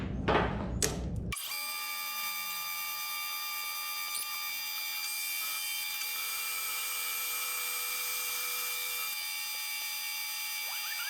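A metal lathe cuts a shaft for a wrist pin repair. After a couple of sharp clunks at the start, the machine settles into a steady, faint, high-pitched whine with a constant tonal hum, running evenly throughout.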